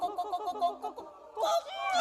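Several people in a laughter therapy session imitate a chicken's clucking with rapid, rhythmic voiced syllables, close and fairly loud, ending in a swell of overlapping laughter.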